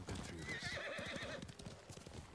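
A horse in the Ghost of Tsushima video game gallops with rapid clip-clopping hooves and lets out a whinny partway through, all close and continuous but quiet in the overall mix.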